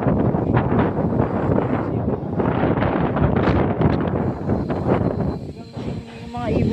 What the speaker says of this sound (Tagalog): Ang lakas ng hangin dito sa amin.